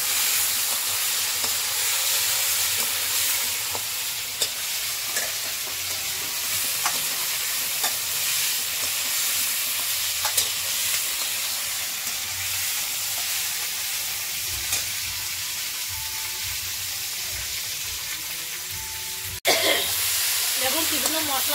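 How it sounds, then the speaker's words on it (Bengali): Drumstick pods and vegetables fry in hot oil in a pan for a rohu fish curry with raw banana, giving a continuous close sizzle with occasional clicks of stirring and a brief cut near the end. "আমি এটা আগে একটু ভাজা করে নেবো ভালো করে"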